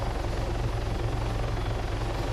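A helicopter flies in the ARMA 3 VR flight simulator, its rotor thumping in a fast, steady beat over a continuous engine drone. The sound stays loud and even throughout, with no talk.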